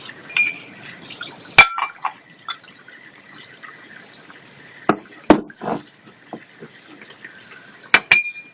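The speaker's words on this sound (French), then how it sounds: "Le temps que l'eau chauffe, je vais laver le bol." A bowl is washed by hand with water, with intermittent splashes, drips and trickles alongside a few sharp clinks of the bowl, close and sparse with quiet stretches in between.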